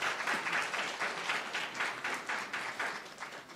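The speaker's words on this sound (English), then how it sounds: "Let's give them a big round of applause." Audience applause at the 2023 Spelling Bee of Canada Championships, a steady, dense wash of many hands clapping that fills the hall and holds for several seconds, slowly fading near the end.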